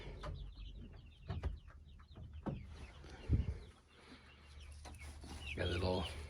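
Backyard chickens clucking around a coop and feeder, with several close, irregular clucks and calls over faint outdoor background.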